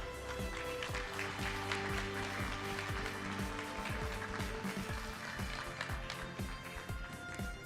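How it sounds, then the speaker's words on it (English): An audience applauds the podium finishers at a sim racing esports invitational event in America, sustained and dense clapping with crisp individual claps standing out near the front. "Let's have a round of applause for our podium."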